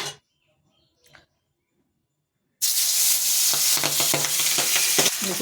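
Fish dropped into hot oil in a home kitchen, a loud continuous sizzle and crackle bursting in suddenly after near silence, with faint stirring or spattering pops over it.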